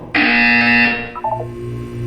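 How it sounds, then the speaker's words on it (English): A loud, flat electronic buzzer from the video game Portal 2 sounds once for about a second and then cuts off, followed by a short beeping tone pattern over a low hum. "When you hear the buzzer, look up at the ceiling."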